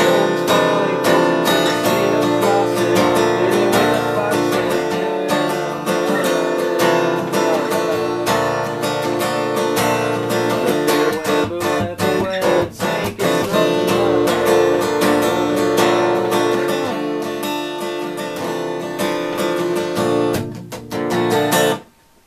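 Steady acoustic guitar strumming in a continuous down-up rhythm, loud and close, running alone without any talking until it stops abruptly at the end.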